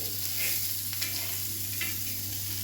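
Stuffed bitter gourds (bharwa karela) frying in a covered pan, a soft steady sizzle with a few brief scraping stirs as they are turned, faint and close.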